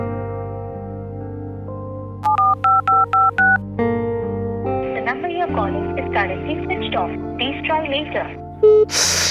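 A telephone keypad sends out a quick run of about five bright DTMF dialing beeps, evenly spaced and close by, while someone in a Bangla drama places a call. Music and a voice carry on around the tones.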